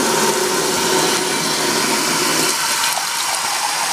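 Tap water pours steadily into a cooking pan on a kitchen cooker, a continuous hissing splash that shifts tone near the end as the pan fills, close and loud with no talking.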